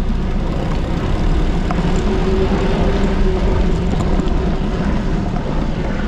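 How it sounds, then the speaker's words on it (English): A helicopter's steady low engine drone hums continuously at moderate volume, a rotor-like rumble that stays even throughout without fading. "I hear a helicopter."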